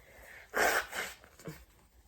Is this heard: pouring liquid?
no